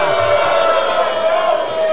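Loud, continuous roar of a wrestling crowd cheering and shouting for the wrestlers at a Crossfire Wrestling match, sustained and dense throughout without a break.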